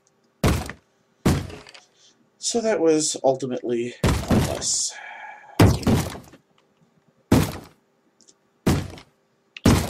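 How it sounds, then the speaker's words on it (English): Zombies in Minecraft (Tekkit) pounding on a wooden door, loud, hollow thunks repeating about every second or so in an irregular rhythm, with someone talking between some of the blows. "And they're beating on the door"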